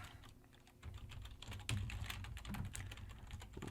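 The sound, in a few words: typing on a computer keyboard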